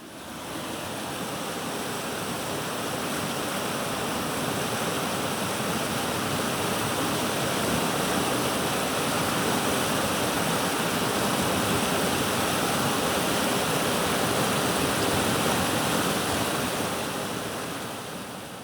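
The Green River flowing steadily past the bank, a dense, continuous rush of water that fills the whole stretch at close range, rising gently and then easing toward the end with no voices.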